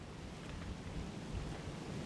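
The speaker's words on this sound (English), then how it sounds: "Yeah, this is already too windy." Steady, rushing wind buffets the microphone with a constant low roar and no break in the noise.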